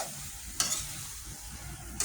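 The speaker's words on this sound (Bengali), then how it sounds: "গরম মশলার সাথে আলুগুলো এইভাবে কষিয়ে নেবেন" Potatoes stir-fried with garam masala in a pan give a steady soft sizzle, broken by two sharp scraping stirs of a spatula, close by with no talking.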